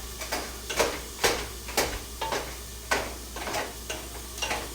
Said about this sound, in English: I'm using my ground beef masher, and I'm just mashing it up, chopping it up